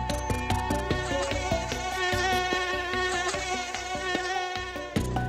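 Tiger mosquito buzzing in a loud, sustained, whining hum with a rapid pulsing rhythm running through it, close and unbroken across the whole stretch.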